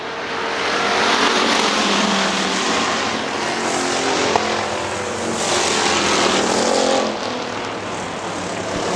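Factory stock race cars roar around Hartford Speedway Park in 2002 as a loud, continuous wall of engine noise, swelling and fading as the pack passes by, with no voices heard.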